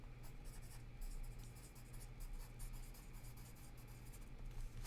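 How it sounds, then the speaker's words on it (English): Pen or marker scratching steadily across paper at close range while doodles are drawn, a quiet continuous scribbling with a low hum beneath and no voices. "I'm gonna write it down right now."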